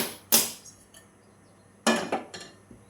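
A metal cooking pot is set down on a kitchen stove: two separate sharp metallic clanks well apart, each followed by fainter rattles and knocks, in an otherwise quiet room.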